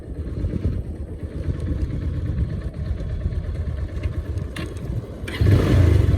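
A motorbike engine runs at low revs during a night ride in Baglung, Nepal, a steady low rumble that holds throughout and swells louder near the end.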